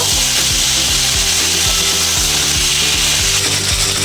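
Mustard and garlic paste being stirred and sautéed in a pan, a loud, close, rhythmic rasping as the spatula scrapes back and forth in quick repeated strokes.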